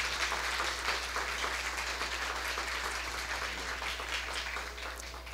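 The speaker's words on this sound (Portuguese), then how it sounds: "peço uma salva de palmas aos nossos músicos aqui da cidade de" Faint, distant applause from an audience at a workplace safety lecture in Paulínia, honoring local town musicians, a steady wash of clapping over a low constant hum, tapering slightly at the end.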